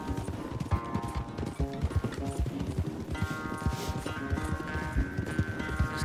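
Rapid, rhythmic hoofbeats of a galloping horse in Red Dead Redemption II over a steady musical background, continuous and fairly close.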